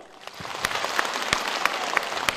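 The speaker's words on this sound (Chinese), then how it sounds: "所以我建议我们先用热烈的掌声预祝全体演员演出成功" An audience claps at a Yue opera memorial performance, a steady patter of many hands with a few sharp louder claps standing out, rising slightly after the start and staying moderate in level.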